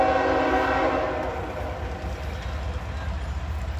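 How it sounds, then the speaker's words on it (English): A freight train led by two locomotives rolls past in Folkston, Georgia, its horn sounding loud and near at first, then fading into a rumbling roll with rhythmic wheel clatter. "Okay, two lead locomotives."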